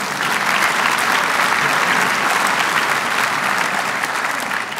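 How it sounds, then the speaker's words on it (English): An audience at a university address applauds steadily, a dense, even wash of clapping that holds for several seconds with no talk over it. "Give them one more round of applause."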